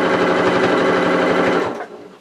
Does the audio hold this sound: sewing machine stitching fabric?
yes